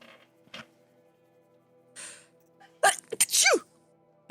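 A sneeze rings out during play of Horizon Zero Dawn: a sharp, loud burst with a quick follow-on, preceded by softer breathy rustles and a brief intake, fairly close to the microphone with no talking.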